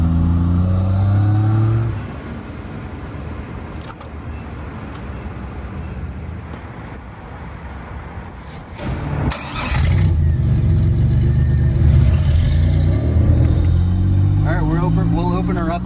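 A 1986 Pontiac Fiero with a supercharged 3800 V6 swap drives up a road, its engine droning low under steady road noise before surging louder into hard acceleration; people talk over it early on.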